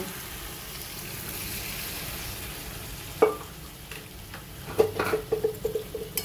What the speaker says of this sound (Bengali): ডালটা ভালো করে সবজির সঙ্গে মিশিয়ে নেব।